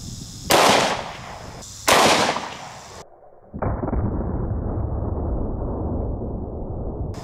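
Two loud, sharp blasts from a .500 S&W Magnum revolver fired at a target dummy, each shot sharply booming with a brief decay, followed by a long steady rushing noise.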